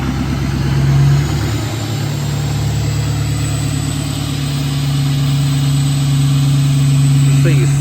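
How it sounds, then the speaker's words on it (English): A truck engine runs at a steady, loud idle after a cold start, with a constant low drone and a slight rise in the first second. A person's voice can be heard briefly. "Now obviously we have to listen to the cold start now."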